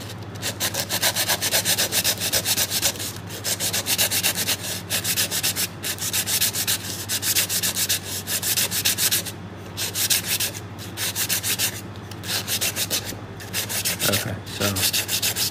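Sandpaper rubbed back and forth over a fishing rod to strip off epoxy, a steady close scratchy rasp in repeated strokes with brief pauses between passes.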